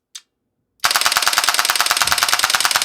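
A PC light gun's recoil mechanism fires in full auto, the reciprocating charging handle hammering out a fast, even rattle of loud mechanical clacks after one brief click and a short silence.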